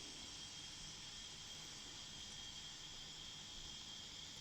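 A Tornado GR4's twin jet engines throttled right back, giving a steady, even whine and rush that holds at constant level throughout with no voices over it.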